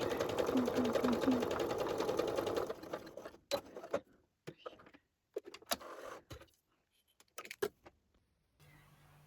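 A sewing machine stitching dress fabric runs at a fast, steady, close-up whir for about three seconds, then stops. Scattered clicks and handling noises follow as the fabric is adjusted.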